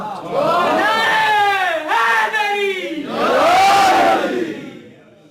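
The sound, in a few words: crowd shouting reply to slogan chant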